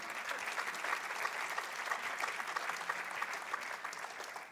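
Steady applause from a church congregation praising God during worship, a dense even patter of many hands heard at a moderate distance, continuing without pause and with no voices over it.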